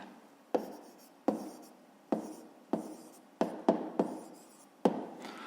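Pen or pencil writing an answer in a school maths exercise, a series of about eight quiet sharp strokes with short scratchy tails, spaced irregularly over near silence.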